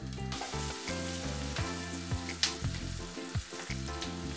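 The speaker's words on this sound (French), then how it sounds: "Faire revenir le gingembre, l'ail et l'oignon une bonne minute." Ginger, garlic and onion fry in a few spoonfuls of oil over high heat for Taiwanese beef noodle soup, giving a steady close sizzle with occasional stirring clicks over background music.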